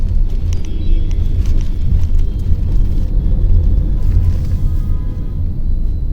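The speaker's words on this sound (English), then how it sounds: "in the CNG mode there is a slight bit more engine noise compared to the petrol mode" A 2022 Tata Tigor sedan's engine runs in CNG mode, a steady low rumble of engine and road noise heard from inside the car, constant and fairly loud throughout with no talking.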